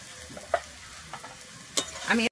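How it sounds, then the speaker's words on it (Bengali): Chopped onions and green chilies fry in a pan, giving a faint, soft sizzle under a few brief scraping stirs of a utensil, close and quiet with no talk. "আমি পেঁয়াজ আর কাঁচা লঙ্কাটা এবারে ভেজে নেব।"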